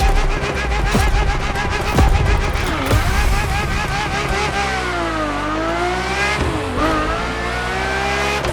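A Ferrari F50 racing in The Crew Motorfest, its engine revving loudly and continuously with rising and falling pitch sweeps through gear changes, joined by brief tire squeal.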